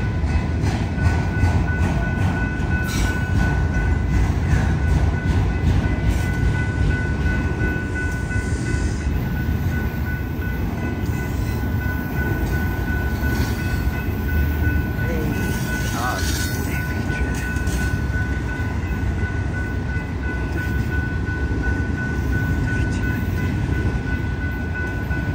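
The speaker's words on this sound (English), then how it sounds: "Never stops that train." A BNSF freight train passes through Colorado Springs, with steady heavy rumble and clattering wheels close by throughout, and faint voices under the noise.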